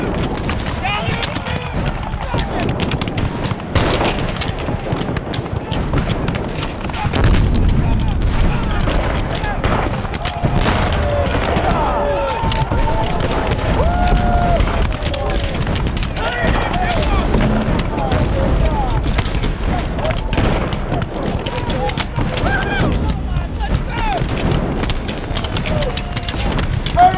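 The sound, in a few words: gunfire in a Civil War battle docu-drama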